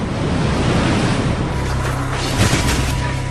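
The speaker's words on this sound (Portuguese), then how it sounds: "Uma combinação de ondas de tempestade e o transbordamento de rios inundariam as ruas da cidade e áreas vizinhas." Storm waves surge and crash under strong, roaring wind, with a constant loud wash of surf and a low rumble running throughout.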